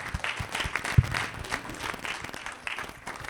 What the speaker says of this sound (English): I would like for you again to give him just a quick round of applause.